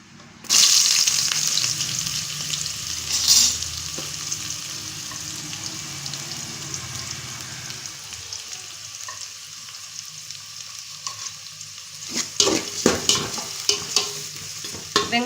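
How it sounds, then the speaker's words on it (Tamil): Onions frying in ghee in a pan while being stirred, opening with a loud sizzle as they hit the hot fat, then a steady crackle with a spatula scraping the pan and louder clatter near the end. "இப்போது நம்ம வெங்காயத்தை சேர்த்துக்கலாம்."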